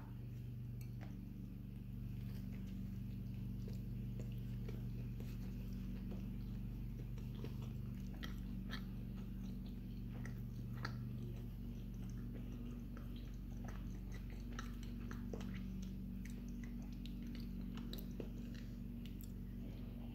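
A hot Five Guys-style burger on a sesame seed bun is bitten and chewed up close, with soft wet mouth sounds and faint clicks over a steady low hum throughout.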